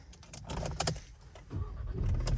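Keys jingle and scrape as they go into the ignition of a 2025 Ford Ranger XLT pickup, soft jangling and small clicks close by inside the cab, with a low rumble underneath.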